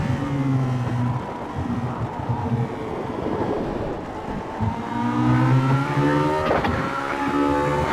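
Race car accelerating hard through the Phillip Island circuit, a loud close engine drone with strong harmonics that surges and falls as the throttle eases, then climbs again under steady wind rush.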